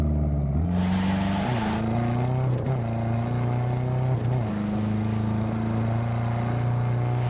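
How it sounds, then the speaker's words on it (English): An enemy car in Ghost Recon Breakpoint drives past, its loud engine droning and revving as it shifts gears several times, close and continuous. "That's an enemy car on the left there coming across"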